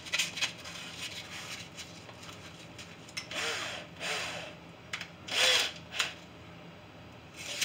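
A power drill spins sandpaper taped to a dowel rod in short bursts of varying length, with a scratchy, rubbing grind against the inside of a pump tube between spins, close by.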